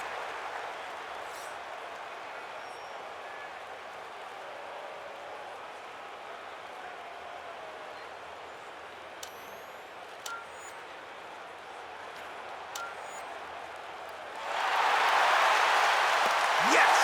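Video game golf crowd at the raucous Coliseum-style 16th hole of TPC Scottsdale in EA PGA Tour bursts into loud, dense applause and cheering after a birdie putt, rising suddenly near the end above a steady low ambient murmur.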